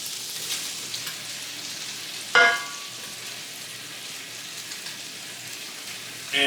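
Mushrooms fry in melted butter in a cast iron pan with a steady, soft, rain-like sizzle throughout, broken once by a brief louder clatter.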